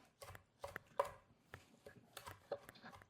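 A knife chops vegetables for a Caesar salad in quick, uneven bursts of close, crisp cuts against a board, with no talking.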